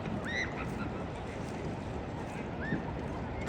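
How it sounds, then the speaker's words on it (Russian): Ducks on the river at Arashiyama among tourist boats at New Year: a few short, faint quacks over constant water and boat noise, with distant voices. "Утки гоняют здесь."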